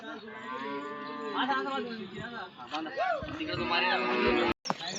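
Racing bulls gathered at a bullock-race ground moo with long, deep, drawn-out bellows, loud and close, as people talk over the calls throughout.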